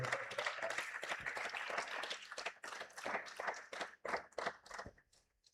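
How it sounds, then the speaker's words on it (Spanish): A congregation claps at a church service, a loud burst of many hands that thins and scatters toward the end into a few last claps. "Dale un fuerte aplauso al Rey"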